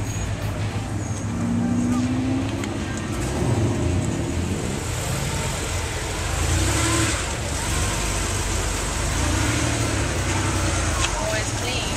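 A car engine rumbles and revs steadily close by at a morning Coffee & Cars show at Vintage Park, with traffic noise around it and people talking underneath.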